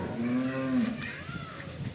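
A pregnant cow with a calf gives a single drawn-out low moo, fairly close, followed by quieter outdoor background noise.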